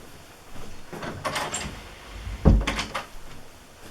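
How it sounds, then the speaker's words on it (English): A craft room door swung shut at home, a few soft rustling knocks building to one solid thud of the door closing, followed by a brief rattle of the latch, close and moderately loud. "I'm going to close my craft room door because I forgot to do that."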